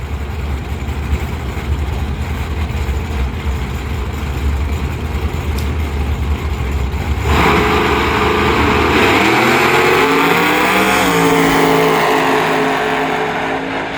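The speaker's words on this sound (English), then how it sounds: "The LS Swap Nitrous Fed 240 will stage up left on Colby Hudson" Drag race at Bradenton Motorsports Park between a nitrous-fed LS-swapped Nissan 240 and a nitrous Mustang, loud engines idling and rumbling at the line before a rising roar as revs climb and the cars launch.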